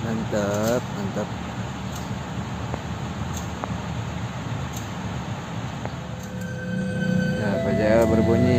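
A train rumbles past at Gedebage, Indonesia, with rattling wagons and squealing wheels, growing louder toward the end, while people talk nearby.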